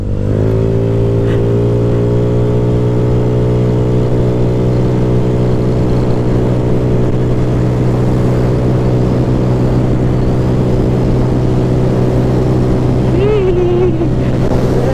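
Remapped Honda Click 125i and Mio Sporty scooters racing. Their engines hold a loud, steady, buzzing drone throughout, close and continuous, with a brief rise in pitch near the end.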